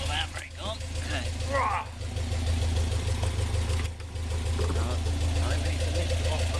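Close, steady idle of a Westfield sports car engine sitting in neutral with the handbrake on, a deep continuous rumble that runs throughout while voices talk over it.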